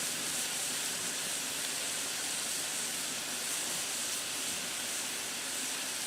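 Lemon chicken and vegetables sizzle on a Blackstone griddle, a steady, dense hiss that holds evenly for the whole stretch with no talk over it.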